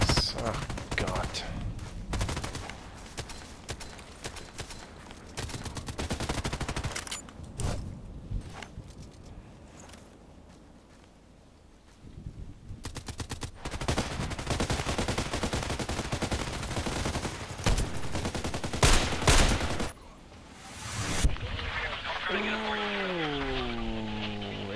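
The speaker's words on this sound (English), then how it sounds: "And again, 5 more shots." Gunshots in a sniper-focused video game, sharp sharp reports and bursts of rapid fire scattered across a long stretch, with game ambience and a brief quieter pause midway.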